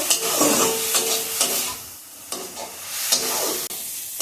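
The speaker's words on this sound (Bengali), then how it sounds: "পুরটা এখন ভালোভাবে রান্না করে নেব" Red spinach pitha filling stirred and fried in a pan, with a steady sizzle broken by several scraping strokes of the spoon, close and fairly loud, no voices.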